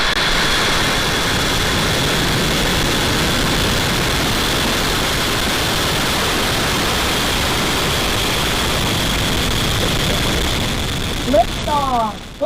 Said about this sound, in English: Liftoff of the Falcon 9!